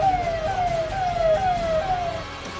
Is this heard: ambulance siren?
yes